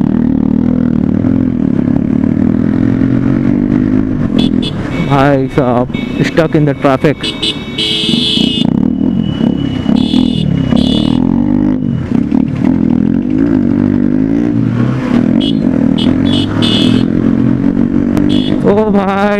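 A Bajaj NS200 and a TVS Apache 160 race on a busy street, engines revving loudly and rising and falling under excited talk, with horns tooting and traffic clatter around them.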